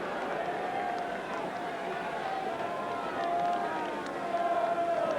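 A big football crowd at a 1978/79 Charlton Athletic versus West Ham United match makes a steady, distant roar and murmur, with a commentator's voice over it throughout.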